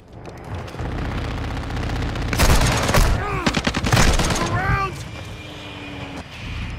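Heavy automatic gunfire rattles in Call of Duty, loud rapid bursts with booming impacts and whizzing ricochets, while a voice shouts over the shooting.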